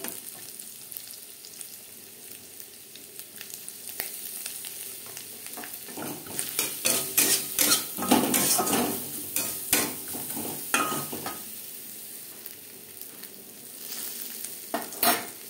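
Grated coconut fries with turmeric and salt in a pan, a soft sizzle that turns into a busier stretch of stirring and scraping clatter before settling back.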